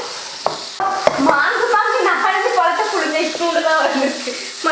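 Chicken stirred in a hot pan, a steady sizzle with scraping and clinking of a utensil, close and continuous.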